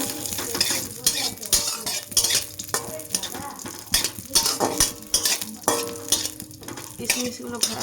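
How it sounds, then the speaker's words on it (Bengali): Raisins frying in hot oil in a wok, with steady sizzling under rapid, repeated scraping and clinking stirring strokes, close and continuous. "এই কড়াইতে কিশমিশগুলো ভেজে নেব।"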